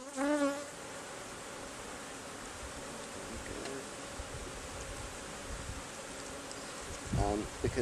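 Dense, steady buzzing of honey bees swarming around hive comb, continuous and close throughout, with a brief voice near the start and end.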